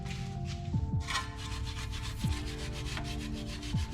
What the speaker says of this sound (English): I like to start by cleaning the rust off of the threads so that our nut comes off nice and easy